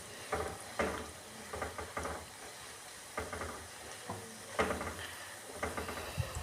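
Potato pakoras frying in oil under a steady faint sizzle, with soft irregular clinks and stirring taps from a utensil scattered throughout, no voices.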